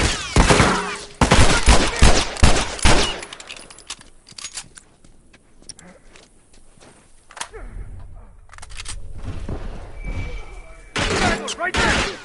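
Rapid gunfire bursts from The Last of Us crackle loudly in the opening seconds and again near the end, with quieter scattered shots and shouting voices in between.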